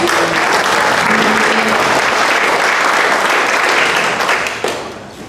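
Loud, dense audience applause fills a hall during a political campaign event, a continuous wash of clapping that holds steady before tapering near the end.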